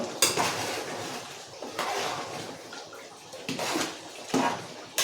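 Ladle stirring chicken biryani meat in a metal pot, with repeated scraping, clinking strokes and wet sloshing at an uneven rhythm, close and fairly loud.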